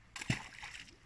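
A carp tossed back into a river lands with a single short splash and brief slosh of water, close by.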